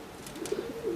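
Oriental Roller pigeon cock birds coo softly in their loft, a low brief burbling call close by with faint rustling.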